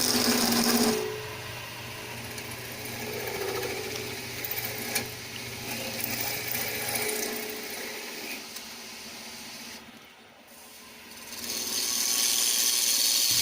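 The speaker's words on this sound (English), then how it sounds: "Just starting to put some shape into the project now. That's a 1/2 inch spindle gouge." A 1/2 inch spindle gouge shaping a wood and perspex piece on a lathe, with a continuous scraping, rasping cut over the machine's steady hum that briefly drops away near the end before the cutting noise returns.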